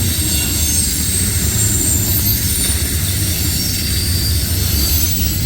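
A long CSX mixed freight train carrying an ATSF hopper rolls past at Point of Rocks, Maryland, with a loud, close, continuous roar of wheels and faint high squealing.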